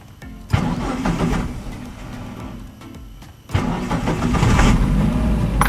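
Suzuki Carry 1.5 pickup engine cranked and started twice in quick succession, each start bursting loudly into a rough idle that steadies afterward, close by.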